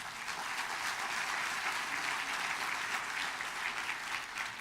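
A church congregation claps together in a steady, dense wash of applause that holds evenly from start to finish, fairly close and without speech on top.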